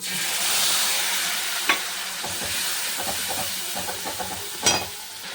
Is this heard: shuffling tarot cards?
no